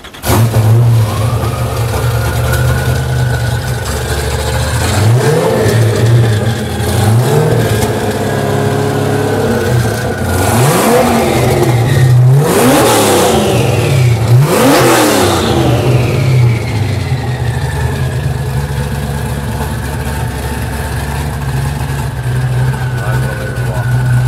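A Hennessey Venom GT sits close by with a deep, loud idle. It revs sharply several times, and each rev rises and falls. A voice speaks faintly over the engine at points.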